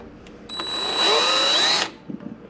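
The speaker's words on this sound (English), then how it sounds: "So I'm going to use a 1/4 inch drill bit" A power drill fitted with a 1/4 inch bit bores into a ball joint on a Chevy S10, producing one loud whining burst of a little over a second that rises and then stops abruptly.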